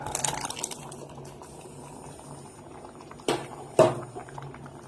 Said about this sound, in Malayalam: മുരിങ്ങയ്ക്കപ്പം നന്നായി തിളച്ച് വന്നിട്ടുണ്ട്